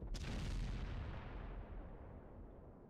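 Heavy gunfire in a video game team battle, a deep booming burst up front that rolls into a dense, sustained rumble of shots and impacts without any voices.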